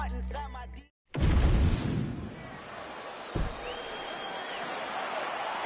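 A rowdy arena crowd inside the United Center in Chicago, Illinois, erupts in a loud, sustained roar and cheer after music cuts out, with one thud partway through.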